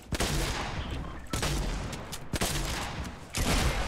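Gunfire in the video game Fortnite during a duos match, rapid bursts of shots in several loud clusters separated by brief gaps, close and dominant with no talk.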